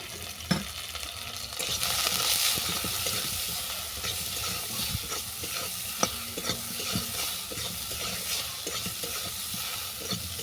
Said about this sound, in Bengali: লবণ হলুদ ভালো করে মিশিয়ে নিলাম